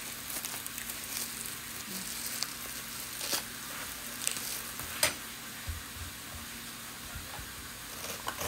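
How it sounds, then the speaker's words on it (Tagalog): Ground pork browning in a pan on the stove, with a steady close sizzle and scattered pops and crackles throughout. "ipa-brown ko muna yung ground pork"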